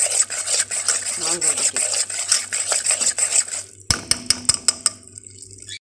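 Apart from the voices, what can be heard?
stirring flour toasting in oil in a pan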